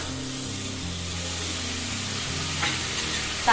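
Steady sizzling and frying of chopped tomatoes in a pan for garlic pepper rasam, with soft stirring scrapes, a constant hiss throughout and a brief clatter near the end.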